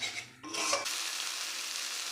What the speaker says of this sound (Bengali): আমি আরেকটু নেড়ে নেব।